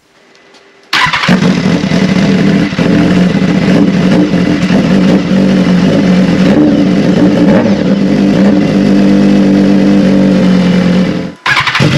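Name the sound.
motorcycle revving with GP70R SC Project race muffler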